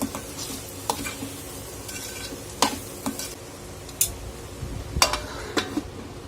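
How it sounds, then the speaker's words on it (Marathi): A Solapur-style monsoon vegetable dish of radish pods with garam masala being sautéed in a pan: a low sizzle under repeated sharp metallic spoon clinks and scrapes at an irregular pace. "सगळं जिन्नस एकत्र असं छान परतवून घेणार आहोत"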